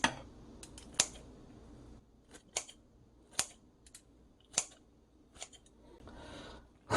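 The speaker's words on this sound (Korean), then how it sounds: "고기 좀 먹기 좋은 크기로 잘라주시고요" Kitchen scissors cut steamed pork from a pork kimchi stew into bite-size pieces: about eight sharp, close snips at an irregular pace, with quiet pauses between them.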